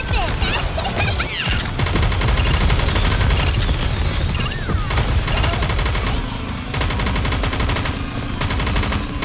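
Sustained automatic gunfire from a battle in the game Goddess of Victory NIKKE, dense rapid bursts and layered shots filling the whole stretch, loud and continuous with game effects mixed in.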